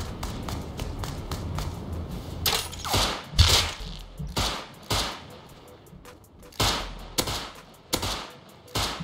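Repeated sharp gunshots crack in irregular bursts, some single, some in quick clusters, with ambient noise between them from the survival video game Rust; a Thompson submachine gun is in use.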